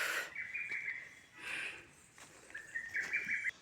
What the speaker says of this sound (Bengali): পাখির ডাক শুনতে পাচ্ছেন কিনা, আমি তো পাখি একটা এখানে দেখতে পাচ্ছি না, কিন্তু ডাক শুনতে পারছি।